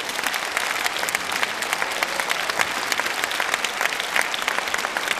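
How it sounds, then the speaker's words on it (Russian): Concert audience in a hall breaking into sustained applause, many hands clapping in a thick, even roar with crisp individual claps poking through, steady in level from start to finish. "Аплодисменты!"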